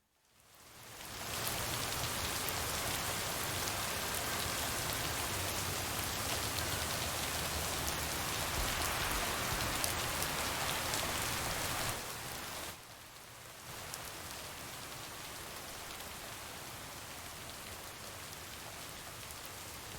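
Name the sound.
rain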